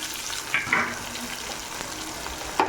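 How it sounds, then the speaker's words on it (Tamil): Tomato being sautéed in oil with already-softened garlic and onion for a potato and brinjal dish: a close, dense sizzle with a couple of louder bursts of crackle as the pan is stirred. "இப்போது ஒரு மீடியம் சைஸ் தக்காளியை போட்டு வதக்கிக்கலாம்"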